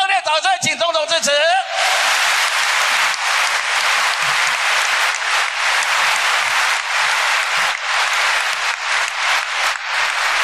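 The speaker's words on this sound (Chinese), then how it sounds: "热烈掌声请总统致辞" Sustained applause fills a hall for the president at an anniversary celebration, loud and continuous after a short burst of speech at the start.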